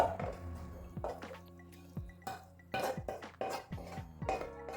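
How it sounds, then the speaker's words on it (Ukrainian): Cooked beans are drained into a colander in a home kitchen, giving wet dripping and splashing with scattered metallic clinks of a pot, fairly quiet and close, without talk. "Воду з фасолі ми зливаємо."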